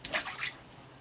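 A raccoon splashes and plays in water, giving a short burst of close, bright sloshing and dripping that fades to a quieter wet trickle.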